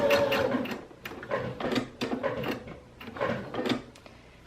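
A sewing machine stitches along the corner of a boxed bench cushion in short bursts of mechanical chatter, pausing briefly between runs, close and moderately loud with no talking.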